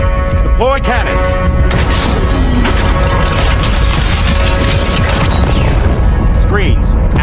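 Cannons deploying in Death Stranding 2: loud mechanical clanks, whirs and metallic ratcheting, with sweeping electronic tones and a deep rumble underneath, continuous throughout.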